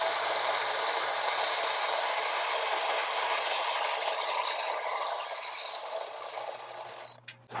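Coffee grinder grinding beans on a coarse setting, a loud continuous whirring grind that holds steady, then tapers and cuts off near the end.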